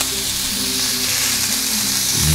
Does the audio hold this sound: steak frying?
yes